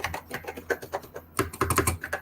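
Keys clatter on the keyboard of an old Osborne computer, a rapid, uneven run of sharp clicks with a brief pause midway, close and fairly loud with no talking.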